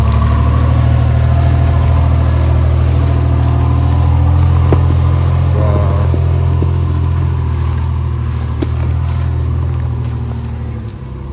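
A car engine labouring loudly as it climbs a slippery hill road toward a village, a constant low rumbling drone close by that eases off slightly near the end.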